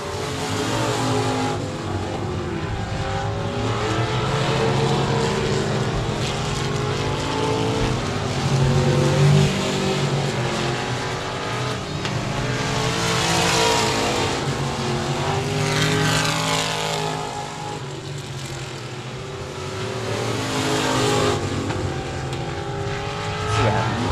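Race cars roar around 67 Speedway of Texarkana during a short-track race, engines swelling and fading as the pack passes in repeated waves, loud and continuous with a crowd-like wash underneath.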